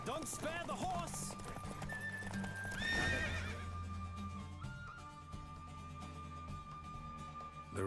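Racehorse in The Witcher galloping hard with steady clip-clop hoofbeats and repeated neighs and whinnies, loud and close, over in-game music and ambient hum.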